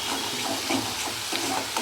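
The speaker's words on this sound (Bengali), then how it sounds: "ভাজা নাড়ছি" Masala frying in a pan for a Kolkata-style pabda fish curry gives a continuous sizzle. Soft scraping strokes of stirring sound up close over it.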